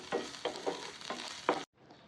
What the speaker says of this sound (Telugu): 1 స్పూన్ అల్లం వెల్లుల్లి పేస్ట్ వేసి పచ్చివాసన పోయేంత వరకు కూడా బాగా వేయించండి